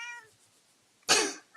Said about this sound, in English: Let's let your cat have the last word.